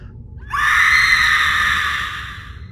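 During a stage show, a performer lets out a long, loud, high scream in a screaming competition. It starts abruptly after a brief quiet and holds steady for about two seconds before easing off.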